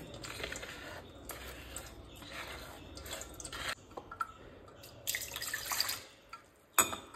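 Ragi (nachni) juice strained through a kitchen sieve, wet dripping and trickling with soft squishy handling sounds, close and intermittent with a few sharper clinks, no talking.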